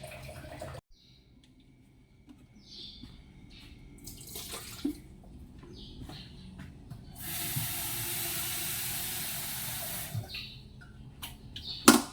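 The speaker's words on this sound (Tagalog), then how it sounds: "I-on muna natin ang tubig." Water running from a tap at home, a hissing steady stream that starts partway through and flows loudly for a few seconds, mixed with clattering and small knocks, with no talk.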